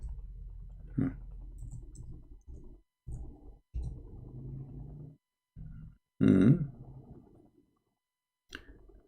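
Keys on a computer keyboard are tapped in short irregular bursts with pauses between them. One louder burp-like grunt breaks in partway through.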